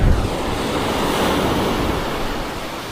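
Sea waves surge and wash against a small wooden boat with a damaged bow, a steady broadband roar of surf and wind that stays loud throughout, with no voices.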